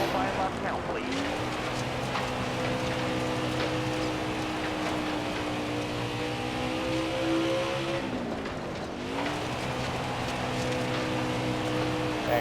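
A race car engine in the NASCAR Heat 5 video game drones steadily and loudly while lapping Charlotte during qualifying. The pitch dips briefly partway through, as if lifting through a turn, then climbs again.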